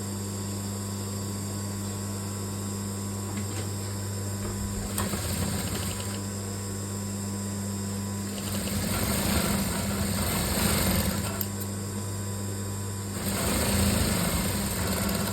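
A sewing machine stitches along the borders of saree fabric being converted into a coat-style gown, its steady mechanical whir running in bursts with a constant hum underneath, close and moderately loud.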